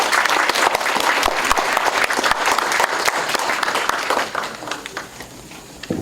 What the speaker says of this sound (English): So have a round of applause for our two MCs.